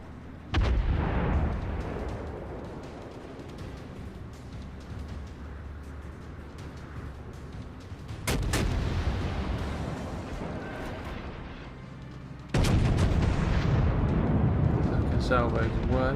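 Heavy battleship gun salvos from a North Carolina in World of Warships, loud booming blasts near 0.5, 8 and 12.5 seconds over a continuous rumbling game soundscape of sea and engine noise.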